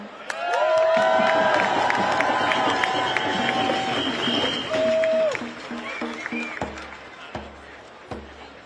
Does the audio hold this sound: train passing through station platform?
no